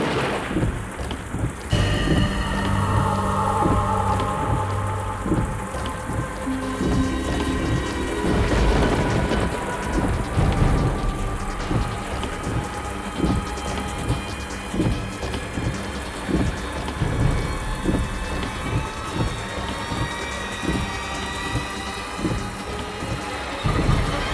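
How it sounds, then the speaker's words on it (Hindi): Heavy rain pours steadily on surfaces with repeated rumbling thunder, a loud, continuous storm wash punctuated by booms, with no voices. "इतनी तेज बारिश हो रही है"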